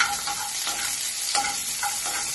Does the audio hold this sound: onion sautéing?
yes